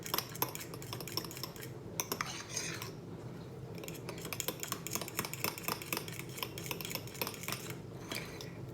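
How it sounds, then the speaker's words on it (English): Soya flour, vanilla and other ingredients being stirred in a bowl, a steady run of light clinking and scraping of a utensil against the dish, quiet and close, with no talking. "Now I am going to mix it."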